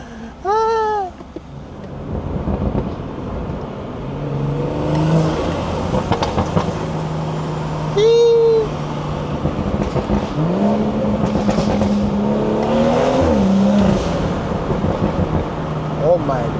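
BMW B58 engine in a car on a point-of-view drive, its intake note rising and falling through revs as it accelerates, loud and close, with voices talking over it.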